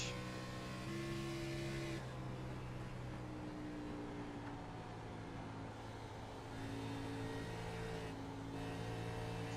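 On-board engine drone of an Xfinity Series race car at Charlotte Motor Speedway, a steady high whine with shifting pitch as revs dip and rise, continuous and close.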